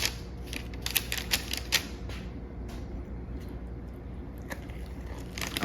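A knife slices through the crust of a baked summer vegetable galette topped with melted Parmesan, giving a run of crisp crunching crackles early on, then quieter scraping, up close with no talk.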